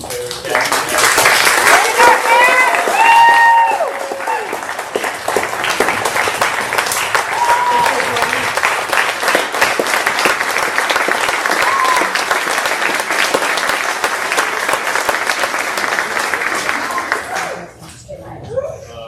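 Sustained applause from a seated audience at a treatment court graduation ceremony, loud and steady for most of the stretch before tapering off near the end, with a few voices and cheers mixed in.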